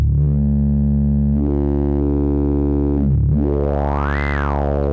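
A buzzy analog synth tone through a Frap Tools CUNSA Eurorack multimode filter plays while the filter sweeps, the resonance rising into a sharp, screaming whistle before falling again.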